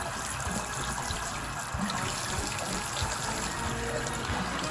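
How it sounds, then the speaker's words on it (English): Hot water flows from a tap, a steady, fairly loud hiss and splash that continues throughout without speech. "Let's turn the water back on."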